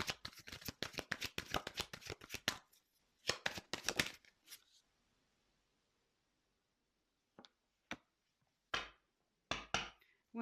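Tarot cards are shuffled in a rapid run of close, crisp riffles, then after a pause a few soft separate card flicks and slides are heard as cards are drawn.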